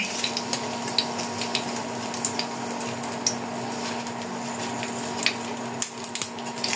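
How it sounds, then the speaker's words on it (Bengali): Dry red chillies frying in hot oil in a pan, a steady low sizzle with scattered small crackles and pops throughout, one near and moderately loud. "তেলে আপনাকে দিয়ে দেবো শুকনো ঝাল"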